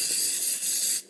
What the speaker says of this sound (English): you want to just keep spraying it